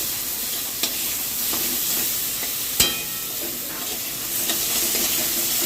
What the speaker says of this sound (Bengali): এটা চিংড়ি মাছটা নেড়ে চেড়ে নিচ্ছি।